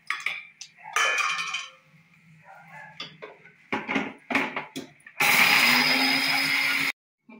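Mixer grinder finely powdering flattened rice (aval) for laddu, short pulsed whirring bursts early on, then one loud, steady high-pitched grind for nearly two seconds before it cuts off abruptly.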